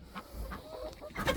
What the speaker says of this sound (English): these blue stars are really nice chickens